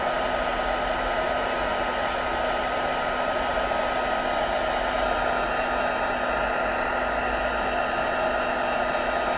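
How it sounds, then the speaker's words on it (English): A dryer blows a steady, loud, continuous rush of air over freshly inked craft paper, close by and unbroken for the whole stretch, with no voices. "Literally I only dried it because I didn't want it to smudge when we do this bit."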